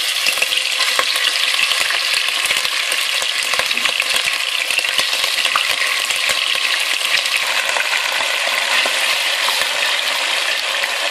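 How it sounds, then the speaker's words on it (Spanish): Seasoned meat, salted and peppered, browning in a hot pan over high heat, giving a loud, dense, continuous sizzle and fry with occasional stirring clatter and no talking. "vamos a echar sal y pimienta a la carne y vamos a rehogarla"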